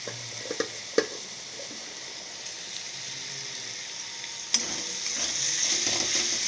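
Onions fry with added sugar in mutton fat, a close continuous sizzle broken by a few sharp stirring knocks early on, then a louder, brighter hiss swells up for the last couple of seconds.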